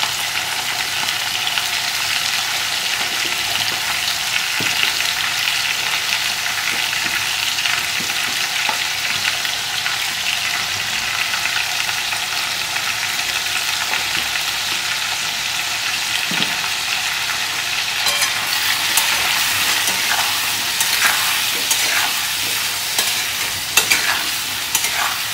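Potatoes seasoned with salt and turmeric fry in a pan with a loud, continuous close sizzle, while stirring adds scattered scraping and tapping that grows busier in the last few seconds.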